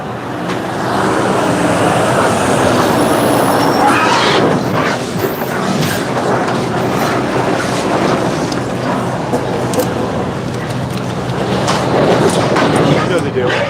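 A livestock truck carrying animals rolls in, its engine and road noise forming a steady, loud rumble that fills the whole stretch while people talk excitedly over it.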